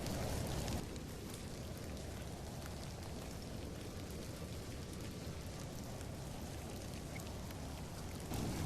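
Steady rain falls at an ancient barrow in a video game, a dense, even hiss of drops on surfaces that is moderately loud and continuous, with no voices.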